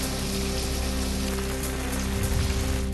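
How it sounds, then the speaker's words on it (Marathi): Heavy rain during a thunderstorm in Chandrapur, a constant loud wash of rainfall with a low steady hum beneath it, unbroken from start to finish. "चंद्रपूरमध्ये विजेच्या कडकडाटासह जोरदार पाऊस"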